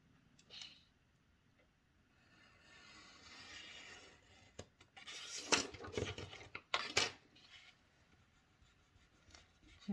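Scissors cut paper and craft material for a Lion King scrapbook album, giving close, faint snips and rustling scrapes in irregular bursts, with a few sharper clicks near the middle; no speech.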